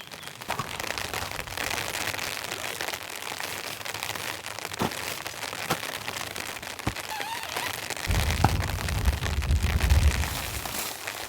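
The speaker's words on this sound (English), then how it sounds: "Starting to rain pretty good." Rain patters steadily on a tent and tarp at a campsite, a dense hiss with scattered sharper drops, growing heavier toward the end with a deeper drumming near the shelter.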